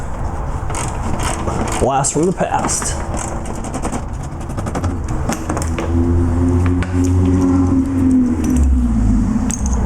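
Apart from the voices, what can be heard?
loud Honda CRX driving past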